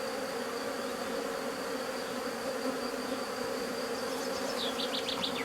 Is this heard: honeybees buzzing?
yes